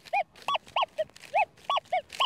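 A young female dog barks about nine times in a quick, uneven series of sharp, close, loud yaps with short gaps, with no talking.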